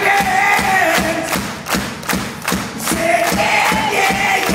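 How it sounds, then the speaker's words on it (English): A concert crowd at a rock show at the Cliffs Pavilion claps along in a steady rhythmic beat, with loud thumping pulses and cheering voices mixed into the music. "I said to clap your hands. Everybody clap your hands."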